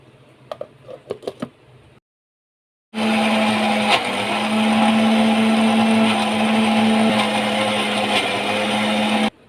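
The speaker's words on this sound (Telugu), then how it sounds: "అంతలా మనం ఈ మిక్సీ పట్టుకుందామండి" A few light clicks and a short silence come before a mixer grinder blending fried tomato for chutney starts with a loud, steady motor whine that holds for about six seconds.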